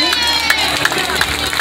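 A church congregation applauding and cheering at an evangelical service, loud steady clapping mixed with crowd noise and voices, close and continuous throughout.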